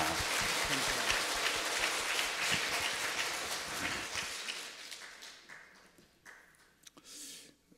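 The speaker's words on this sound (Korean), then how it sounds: "박수로 환영합니다" Congregation applause fills a church service, loud and dense clapping for several seconds that fades out, leaving a quieter room with a few scattered claps at the end.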